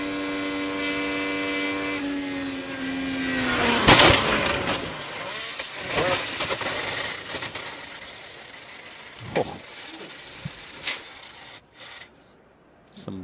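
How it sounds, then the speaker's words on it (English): An IndyCar skids after a crash, carbon and steel scraping along the track: a loud grinding burst with an engine tone fading, then scattered scrapes and clatters trailing off. "Some lingering audio there from the skidding noise of just carbon and steel"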